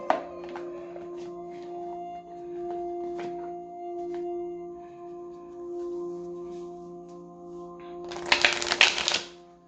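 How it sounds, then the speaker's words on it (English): A tarot deck is handled during a psychic reading, with scattered light card taps and clicks over a steady low musical drone, then a loud, dense riffle-shuffle burst lasting about a second near the end. No one speaks. "My cards are just falling all over the place over here."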